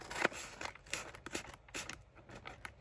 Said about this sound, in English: I'm going to get my big scissors.